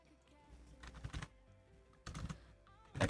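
Computer keyboard typing with a few short clusters of keystrokes separated by quiet pauses, close and fairly soft.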